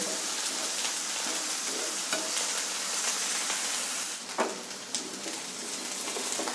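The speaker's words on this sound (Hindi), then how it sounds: "मैं ना साथ साथ में भिंडी को ही फ्राई कर रहा हूँ और हमारा मसाला ही फ्राई हो रहा है" Okra and masala fry steadily in a pan, a continuous dense sizzle with occasional scraping stir strokes, close and loud with no talking.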